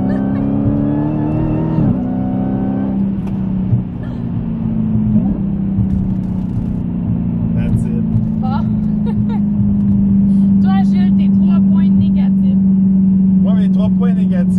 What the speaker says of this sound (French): vous voulez entendre le supercharge stylé, vous brûlez du gaz